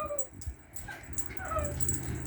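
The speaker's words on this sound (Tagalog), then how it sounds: "Sayang-saya nung aso eh, oh." A dog whimpers and yips in short, high, excited bursts close by, over a busy background of low rumble and scattered noise, with no clear talking during these moments.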